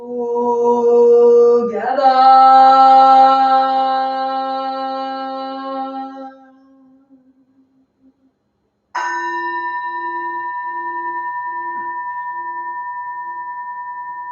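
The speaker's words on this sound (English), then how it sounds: "The sound of the temple bell booms for all to cease from conflict" A Zen Buddhist temple bell in Ann Arbor is struck twice, loud and close. Each deep, ringing tone hangs and slowly fades, with a pause of near silence before the second strike, and no voices are heard.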